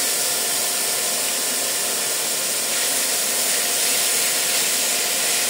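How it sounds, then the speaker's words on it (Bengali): Grated carrot and papaya frying in a pan for laddu sweets, giving a loud, steady, broadband sizzle that hisses continuously without pause and with no voices over it. "তা আমি এই মুহূর্তে গাজর আর পেঁপেটা দিয়ে দিচ্ছি। এটা একটু ভাজবো।"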